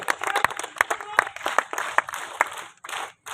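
An audience claps at a disaster-relief volunteer awards ceremony in Udaipur, with sharp irregular claps scattered over a continuous background and a voice on a loudspeaker mixed in.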